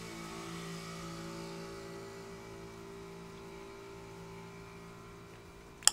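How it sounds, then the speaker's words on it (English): A passing motorbike's engine drones steadily in the distance, a faint, sustained tonal hum that holds for several seconds before a sharp click at the end. "Excuse me, Mr. Motorbike."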